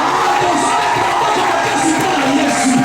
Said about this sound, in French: Et acclamez très fort pour Jésus.